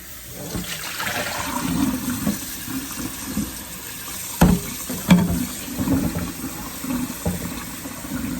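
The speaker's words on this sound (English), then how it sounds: "we want to rinse these until the water is actually clear." Water runs from a tap over oxtail pieces as they are rinsed clean for a Jamaican stew, giving an uneven splashing flow with a few sharper splashes and knocks partway through.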